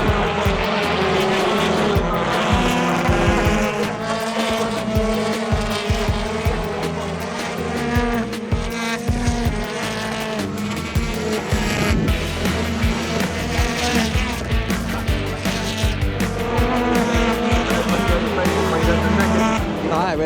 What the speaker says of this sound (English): BTCC cars are out, leaving pit lane on their way to the grid now.